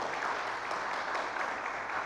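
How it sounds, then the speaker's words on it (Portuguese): A church congregation claps together in sustained, dense applause, an even wash of many hands with no voices standing out. "Vamos aplaudir a Jesus pela vida dele também"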